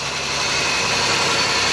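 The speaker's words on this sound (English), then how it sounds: "that's that sound engines make when they haven't ran in a while" A 3.6 V6 Pentastar engine with a ticking fault idles after sitting unused for a while, giving a loud, steady, close engine drone with an even mechanical rattle and no voices.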